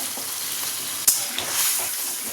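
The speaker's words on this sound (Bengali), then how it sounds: "ফোড়ন দেওয়া হয়ে গেল।" Whole spices tempering in hot oil for a lentil dish with papaya, giving a steady close sizzle with one sharp clink of a utensil midway and a brief swell of spitting near the end.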